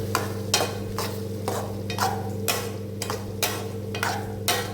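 Onions and tomatoes sautéed in a pan for tomato rice, with a steady low hum of cooking under rhythmic scraping strokes of a spoon stirring the mixture, about two strokes per second, close and moderately loud.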